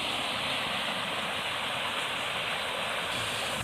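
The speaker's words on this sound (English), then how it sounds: "And the water is running aplenty, as you can probably hear." A creek runs strongly, with a steady broadband rush of flowing water close by, continuous and unbroken, with no voices over it.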